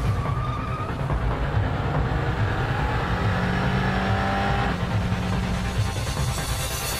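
Street race cars roar at night with a loud, continuous engine drone, revving and rumbling as they pass close by, steady throughout with no talk.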